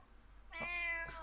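A cat gives a single clear meow, rising then sliding down, followed by a brief trailing chirp, close and fairly quiet over a faint low hum.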